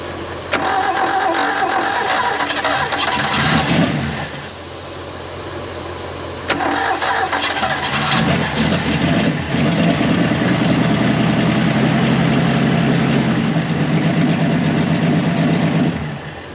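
A Valiant Pacer slant 6 engine, parked for 46 years, cranks loudly in a first attempt, pauses, then cranks again and catches, settling into a rough, steady idle that runs close and loud to the end.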